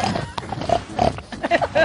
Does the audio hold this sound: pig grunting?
yes